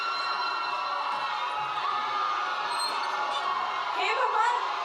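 Large crowd gathered outdoors at nightfall beside a tamarind tree, a steady murmur of many voices with scattered shouts and a brief rise near the end, heard continuously at moderate distance.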